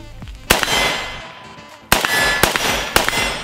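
Rifle rounds from a Tantal strike a steel target at distance, each impact a sharp metallic clang with a ringing tail. Several hits come in two bursts separated by a short pause, loud and clear with no talk.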